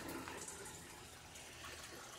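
Water pours steadily into a settling tank that is fed from a fish tank, a constant soft gushing with no pauses, heard alone.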